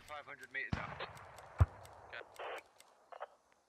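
Outbound mortar fire in the military shooter Squad booms in two sharp, heavy blasts, one stronger than the other, amid scattered game noise and brief speech.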